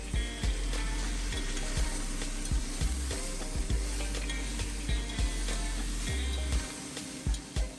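Bite-sized eggplant pieces cook in a pot for a green curry, hissing in an even frying sizzle. Repeated soft thuds of stirring land at an irregular rhythm over the steady background.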